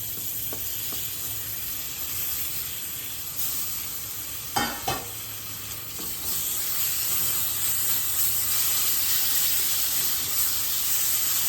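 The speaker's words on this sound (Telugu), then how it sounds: "యాపిల్ వేస్తున్నాను." Chopped apple drops into a hot pan of roasted rava for apple kesari, setting off a steady sizzle and frying hiss with a brief louder burst and stirring clatter midway, continuing alone without talk.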